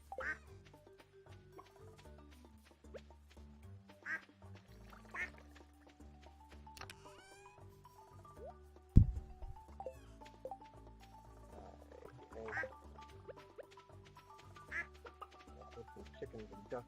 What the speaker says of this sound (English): Chickens and ducks everywhere.